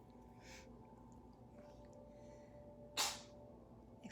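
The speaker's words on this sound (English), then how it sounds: "Excuse the cat sneezing, she has allergies." An allergic cat sneezes indoors in a quiet room: a faint short burst early on, then a sharper, louder sneeze a few seconds later, with low background hum between.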